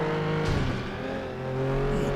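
Race car engine from the derby racing game FlatOut 2, droning steadily throughout with a sustained revving tone that dips slightly mid-clip and swells again, loud and close with no talk.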